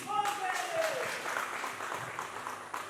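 Steady applause from a crowd fills the whole stretch, a dense patter of clapping with a voice briefly rising above it near the start.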